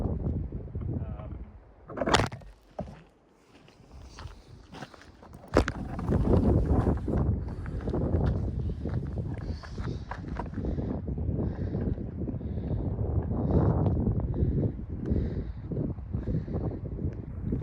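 Gusty wind on a Himalayan valley trek rumbling against the microphone, with a couple of sharp knocks early on, then a sustained loud blustery roar throughout.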